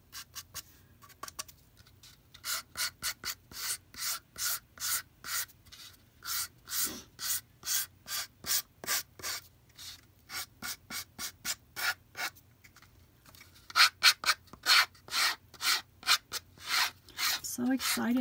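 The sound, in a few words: sanding the edges of a wooden name plate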